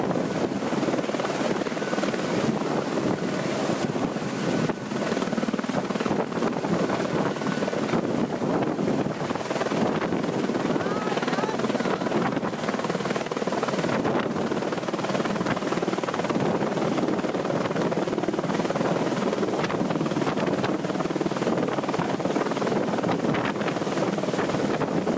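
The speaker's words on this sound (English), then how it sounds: "a helicopter stops by for a drink" A helicopter hovering low over a swimming pool, its rotor roar loud and continuous with heavy wind buffeting on the microphone, no voices.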